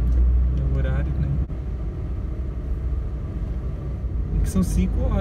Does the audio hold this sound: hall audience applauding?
no